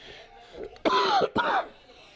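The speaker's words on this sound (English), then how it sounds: "I got a bit of a cough there" A man coughs and clears his throat, two harsh bursts close to the microphone, loud and alone without speech.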